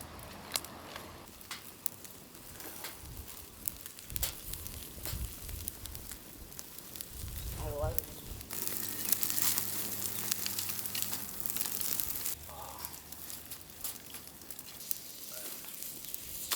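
Goat legs singed over an open fire crackle and sizzle steadily for a long stretch, fat hissing with small pops and a brief louder flare midway.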